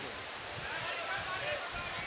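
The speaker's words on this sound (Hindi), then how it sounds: "बारिश है, कोई बात नहीं।" Steady rain falls across an outdoor mushaira gathering, a broad constant hiss filling the open air with dense, even wash and no clear breaks, while voices murmur underneath.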